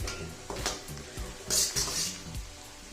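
Onions sizzle and fry in a pan with cinnamon and a bay leaf while being cooked for Lahori chikar cholay. A steady close crackle carries repeated soft stirring scrapes and brief brighter hisses.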